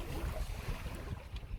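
Steady wind buffeting the microphone along a coastline while sailing a 13ft dinghy at sea, a low continuous rumble with faint water wash, no voices.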